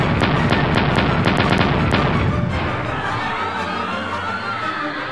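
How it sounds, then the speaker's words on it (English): A dense barrage of booming blasts and sharp cracks fires rapidly for a couple of seconds, then rumbles away into a lingering roar. "20 cannons exploded with a thundering boom"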